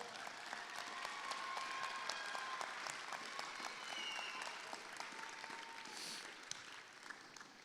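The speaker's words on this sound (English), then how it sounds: "Graduates, can you give your family and friends a big round of applause?" Audience at a high school commencement ceremony gives a sustained round of applause, steady continuous clapping heard from a distance in a large hall.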